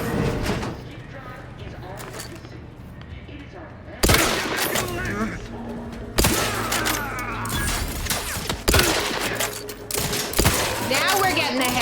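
Gunfire from the video game The Outer Worlds 2: a series of sharp, loud shots at irregular intervals with mechanical clicks between them, heard over game sound and a talking voice.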